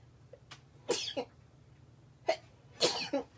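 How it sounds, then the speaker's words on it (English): Indoors, a woman sneezes twice in quick succession, each a sharp forceful burst with a short intake before it, loud and close against a quiet background. "I'm going to sneeze."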